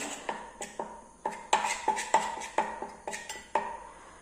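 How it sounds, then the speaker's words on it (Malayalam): A spoon stirs a turmeric tooth-cleaning mixture in a small bowl, making a rapid, irregular run of bright metallic clinks and scrapes against the bowl's sides, close and alone. "ശേഷം നമുക്കിതെല്ലാം കൂടെ നന്നായിട്ടൊന്ന് മിക്സ് ചെയ്ത് കൊടുക്കാം"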